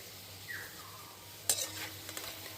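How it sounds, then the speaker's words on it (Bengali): Palm fruit fritters deep-frying in oil, a faint, quiet bubbling sizzle with a few light utensil taps as the balls are turned. "ফুলিগুলো আমি বেশ হালকা লাল লাল করে ভেজে নিচ্ছি"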